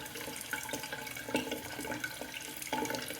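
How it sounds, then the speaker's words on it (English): A bathroom tap runs steadily while someone rinses their face after shaving, a constant splashing flow with small bursts of water hitting the skin and basin. "Sorry for the running water."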